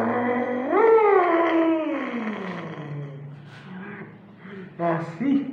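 A human voice imitates a werewolf howl, rising then sliding down, followed by short growling grunts; close and alone.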